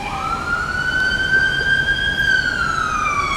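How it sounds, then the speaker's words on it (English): A police siren wails steadily in the distance, rising and falling slowly over a faint outdoor background in a garden. "You can hear the police department going by in the background"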